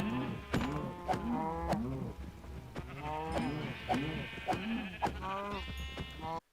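Sheep in Minecraft bleat repeatedly, overlapping wavering calls from several animals close by, mixed with lower cow-like moos, loud and continuous without talk.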